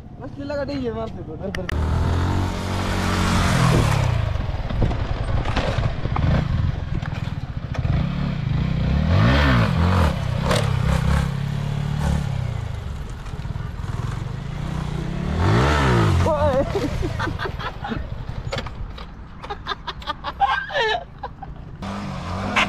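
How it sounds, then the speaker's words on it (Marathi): A motorcycle revs and surges in several bursts during a stoppie stunt, engine swelling and fading as it approaches and brakes, with people talking over it. "पहिली ट्रायल करून दाखवतो भावाला आपल्या एक छोटीशी स्टॉपी"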